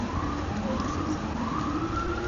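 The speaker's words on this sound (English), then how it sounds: "what is that? Police car." A police car siren wails through New York City rush-hour traffic, its rising and falling tone sounding continuously over dense, steady road noise from a distance.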